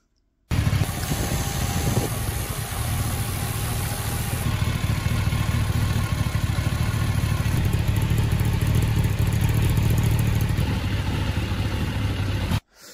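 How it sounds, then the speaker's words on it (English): A Kawasaki Ninja motorcycle engine idles steadily at operating temperature, with the rear wheel stationary. The sound is a loud, continuous, close-up rumble with mechanical clatter, running alone from start to finish. "look, the engine's idling and the wheel's not turning at all"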